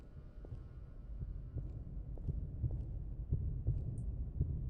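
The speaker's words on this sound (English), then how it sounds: "Okay, I hear a heartbeat." Steady heartbeat thumps at an even pulse inside the Interior Worlds backrooms horror game, soft and low, repeating throughout with no talk over it.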